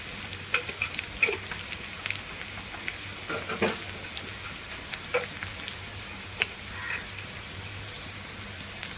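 Mustard seeds tempering in hot oil, a soft steady sizzle with scattered small pops and crackles, fairly quiet and close, no talk.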